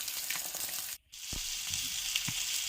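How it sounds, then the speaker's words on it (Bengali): Fish frying in a pan on a home kitchen stove, a loud, even sizzle close by with a couple of low bumps and a brief break in the sound. "আর এই দিক দিয়ে মাছটা ভাজতে বসিয়ে দিয়েছি"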